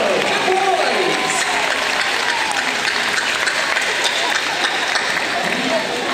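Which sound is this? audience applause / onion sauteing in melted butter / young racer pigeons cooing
audience applause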